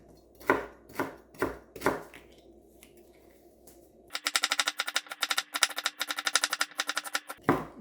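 Celery stalks being chopped for vegetable soup: four sharp, separate knife strikes on a board, a pause, then a fast, even run of close, crisp chops.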